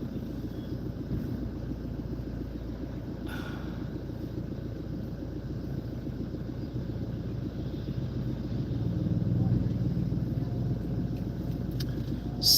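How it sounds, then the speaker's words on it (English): Road traffic near an airport: a steady, low rumbling drone of passing vehicles that swells a little louder toward the end, with no voices over it. "So I'm about to cross the road. It is really traffic."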